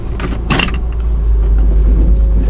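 Car pulling away on a short test drive, a low steady engine and road rumble building slightly, with a brief mechanical clunk or creak early on.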